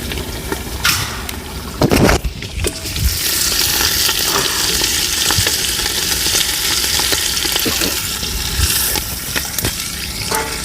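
Onions frying until browned in a pan for a home-cooked party meal, with a continuous loud sizzle and several sharp scraping stirs of the spoon, heard close and without talk.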